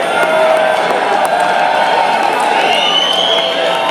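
A dense festival crowd at the Sea.Hear.Now Festival in Asbury Park, New Jersey, cheers and yells 'Bruce' during a Smashing Pumpkins set, making a continuous loud roar of voices with no breaks.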